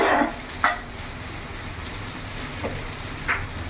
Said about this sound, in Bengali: আমি ভালো করে সবজির সাথে মিশিয়ে নিয়েছি।